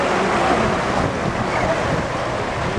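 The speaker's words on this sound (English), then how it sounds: "Look at the waves." Waves wash steadily against a tour boat's hull on a ride through the Thousand Islands near Gananoque, a dense continuous rush mixed with wind buffeting the microphone, loud and unbroken with no voices.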